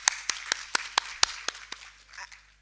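A small audience at a conference applauds with about a dozen sharp, evenly spaced claps, then a brief scattered patter that fades out.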